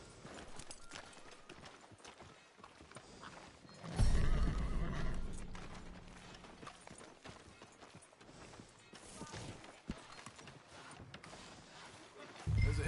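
A horse whinnies loudly in a video game, mixed with clip-clop hooves and background game sounds, the neigh standing out in the middle.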